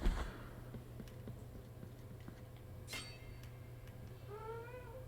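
A cat meows in the room, a short rising cry near the end, with a few faint clinks and taps and a low steady hum in a quiet space.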